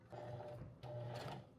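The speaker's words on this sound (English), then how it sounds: "take her over to the sewing machine and sew a square into these handles" A sewing machine stitches a square into the handles of a 34L carry-all duffel bag. It gives two close, steady whirring runs separated by a brief pause, with no voices.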